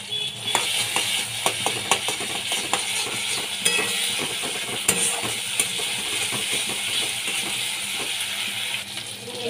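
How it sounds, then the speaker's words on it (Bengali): Spice paste with ginger-garlic paste and chilli frying in a pan for a fish recipe: a low steady sizzle under repeated scraping, clacking stirs from a spoon, close and rhythmic throughout. "ভালো করে মশলাটা কষিয়ে নিচ্ছি।"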